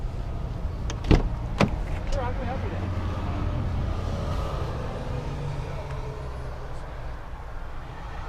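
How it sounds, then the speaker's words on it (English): The power rear sliding window of a 2019 Ram 1500 Rebel pickup hums with a steady low motor whir inside the cab, marked by a couple of sharp clicks near the start. "Power rear driver's window."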